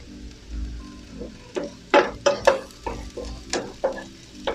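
Fresh garlic sautés in a hot pan, a soft sizzle broken by sharp scraping stirs of a utensil that come in an uneven rhythm, close up.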